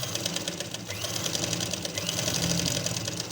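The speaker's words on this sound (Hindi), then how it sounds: "इसी तरह मैं चारों तरफ आपने ये सिलाई लगा लेनी है।" A sewing machine runs continuously as lace is stitched onto the corner of a dupatta, a steady close whirring hum with a fine rapid rhythm throughout.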